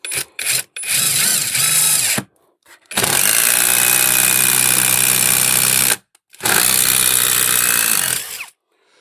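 A Parkside Performance impact driver drives large screws in several long bursts, its motor whining loudly with rapid hammering, separated by brief pauses of silence, close up.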